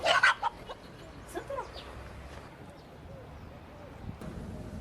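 A chicken clucks nearby in a few short bursts at the start, then faint background sounds continue in an outdoor scene with people around.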